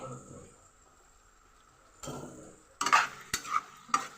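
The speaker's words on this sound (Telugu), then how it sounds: "చూడండి ఇలా ఫ్రై అవనిద్దాము ఇలా ఫ్రై అవనిద్దాం" Tomatoes frying in a pan for a nalleru stalk curry, with a soft sizzle and a few sharp spoon-on-pan clinks and stirring bursts toward the end, no talk.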